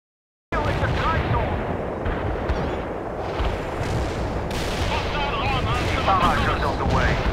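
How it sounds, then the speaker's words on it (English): Mortar barrage firing in the real-time strategy game World in Conflict, a series of booming launches and rumbling blasts after a moment of silence, loud and continuous, with radio voice chatter over it. "Fire mission received. We're aiming the mortars right now."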